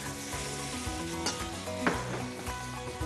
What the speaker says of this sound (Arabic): البروكلي، تعمله شويه سوتيه مع زيت زيتون